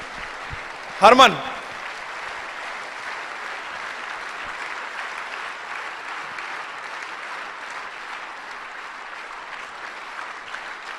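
An audience applauds to welcome someone onto the stage at an event. The clapping holds steady and fills the room, and near the start a single voice calls out briefly over it.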